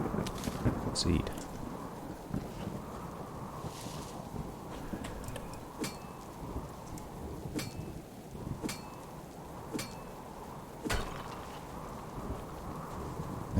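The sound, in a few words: loud thunderstorm in the video game Subsistence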